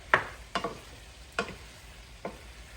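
Chicken and shrimp pieces stirred in a pan for pasta, four distinct scraping clinks of the utensil spaced irregularly over a low, quiet background sizzle, no talking.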